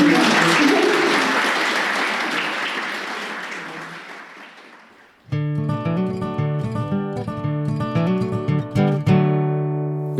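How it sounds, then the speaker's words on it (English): Applause from an audience after an interview rings out loudly at first and gradually fades over about five seconds, then gives way abruptly to bright electronic music with steady tones and plucked notes. "And round of applause."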